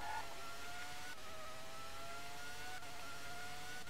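A Formula One race car engine in the video game F1 1997, droning steadily at high revs throughout, with a continuous whine and no talk over it.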